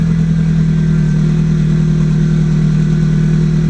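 A Subaru Impreza GC8 runs at a steady cold-start idle, with a constant low, droning engine hum and no change in revs. No voices are heard.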